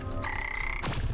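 A frog croaks in the video game Wytchwood, one drawn-out ribbiting call that ends in a short gooey squelch, clear with no speech over it.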